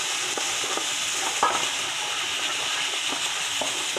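Chopped onion sizzles in olive oil alongside sausage in a pan, a steady close hiss with scattered crackles and a few stirring clicks throughout.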